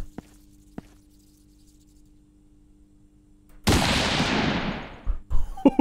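Long-range guns in a video game: after several seconds of near quiet with a couple of faint ticks, one loud, sharp gunshot blast erupts and rings out, followed by a few smaller thumps.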